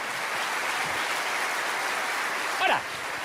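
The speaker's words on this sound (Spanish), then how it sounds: "Alguien tiene que aplaudir más que eso" A church congregation applauding during a sermon, a steady broadband wash of many hands clapping at moderate distance, with a brief voice cutting through near the end.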